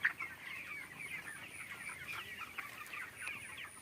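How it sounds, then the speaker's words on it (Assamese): Broiler chickens in a 3000-bird poultry farm affected by respiratory disease (CRD), a dense, continuous chorus of clucking and chirping from many birds, steady and moderately close with no talk. "3000 ব্ৰয়লাৰ মুৰ্গী ফাৰ্ম।"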